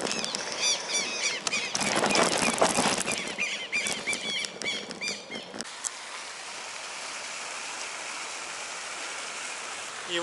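Pigeon wings flap in a burst of dense rustling in a Curitiba park in Brazil, followed by a steadier background hiss like fountain water, with faint voices underneath.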